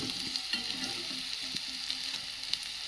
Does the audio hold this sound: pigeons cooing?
no